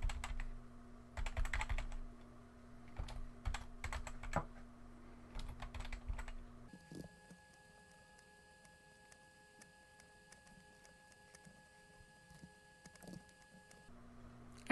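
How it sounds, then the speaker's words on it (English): Quick typing on a computer keyboard comes in short bursts of light key clicks, close and fairly quiet, with a pause in the middle and a low steady hum in the background. "Go ahead and type in some quick text here."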